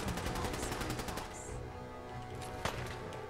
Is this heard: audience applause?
no